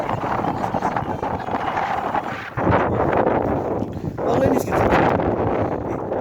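Strong gusts buffet the microphone during a mountain snowstorm on the Tonglu–Dothrey trek, a loud, rough roar that swells and drops in waves, with a voice faintly underneath.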